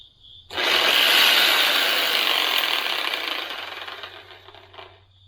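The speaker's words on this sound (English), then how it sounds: "A Harbor Freight reciprocating saw." A Harbor Freight reciprocating saw powered by a Bluetti EB3A power station starts abruptly and runs loud and close, a rattling, buzzing mechanical roar that holds steady, then gradually weakens and cuts out.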